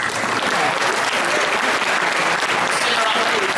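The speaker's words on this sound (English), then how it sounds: "And please, another round of applause." An audience applauds prize winners, teachers and researchers gathered on stage at a Canberra ceremony, steady loud clapping from a large crowd that holds evenly throughout, with speech mixed in.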